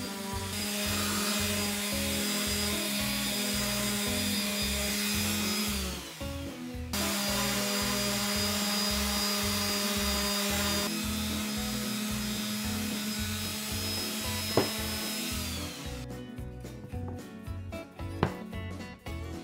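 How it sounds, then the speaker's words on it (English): A round sanding pad works the edges of 200-year-old Kiso cypress wood in a steady, rhythmic rasping whir that pauses briefly and resumes, ending with lighter, scattered scraping. "Edges are sanded evenly without over sanding"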